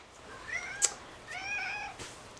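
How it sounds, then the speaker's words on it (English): A pet cat meows twice nearby, a short rising cry and then a longer drawn-out meow, clear over a quiet indoor room with no talking. "That's my cat."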